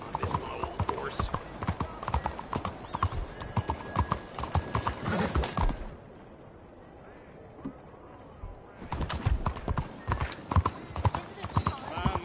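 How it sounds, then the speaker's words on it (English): Steady clip-clop of horse hooves trotting in the video game Red Dead Redemption 2, close and rhythmic, with a quieter gap midway; people talk over the hoofbeats. "this is my old horse"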